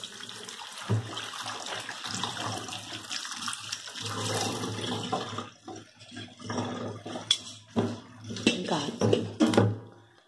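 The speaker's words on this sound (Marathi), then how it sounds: "लगेच गार पाणी घाला म्हणजे शिजत नाही." Cold water poured over freshly boiled potatoes in a kitchen, a continuous splashing, running-water rush lasting throughout, close and fairly loud, with brief clatters near the end.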